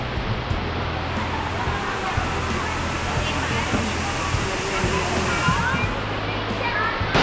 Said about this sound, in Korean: 보이는 엄청난 크기의 폭포. 물줄기 소리도 장난 아님